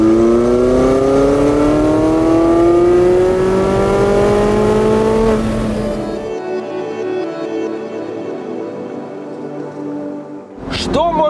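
The Porsche 918 Spyder hybrid supercar pulls hard under acceleration, its engine note climbing steadily through the revs, then dropping to a lighter whine before a brief sharp burst at the end.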